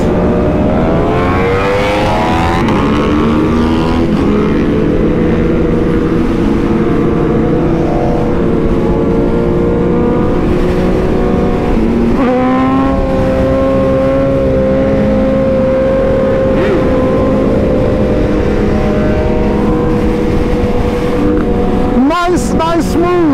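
A BMW S1000RR and a Ducati Panigale V4 race on the street, engines droning and climbing in pitch under steady wind rush, with a burst of revving at the end; someone talks over the engines.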